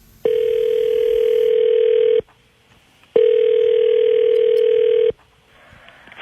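A telephone ringback tone rings out for an outgoing call: two long, steady buzzing rings of about two seconds each, separated by a short silent gap, loud and clear with nothing else over them.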